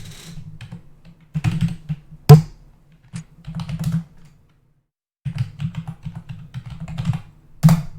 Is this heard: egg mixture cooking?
no